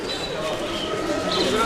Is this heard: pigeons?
yes